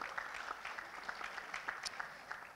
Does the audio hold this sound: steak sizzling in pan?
no